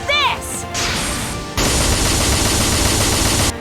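Gun attack in Super Neptunia RPG, a loud, dense burst of rapid-fire shots with crashing impacts lasting several seconds, following a short high chime.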